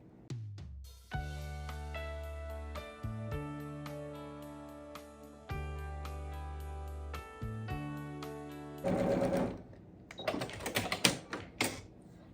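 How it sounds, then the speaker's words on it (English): Sewing machine stitching a fabric tube for a headband, its motor running in several sustained bursts with short pauses between, followed by clattering handling noises at the end. "I'm still sewing with 1/4 inch seam allowance"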